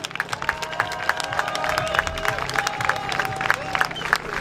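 At a motorcycle stunt contest, a crowd cheers and claps steadily, a dense wash of applause with scattered shouts and whistles, while a voice talks over the crowd.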